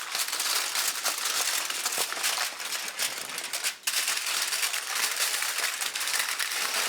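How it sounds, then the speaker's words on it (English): Aluminium foil crinkles and rustles steadily as it is pressed into a pastry case for a vegan spinach and red onion quiche, a close, continuous scrunching with one brief pause near the middle and no speech. "take care of your pastry edge as you're just putting this foil in"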